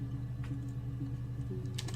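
Computer keyboard keys are tapped in a few brief, light clicks over a steady electrical hum, close and fairly quiet.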